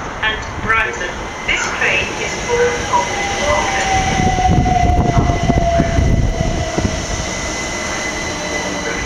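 A train rumbles into platform 5 at Gatwick Airport station and slows with a drawn-out squeal of brakes, while platform background noise and voices carry over it.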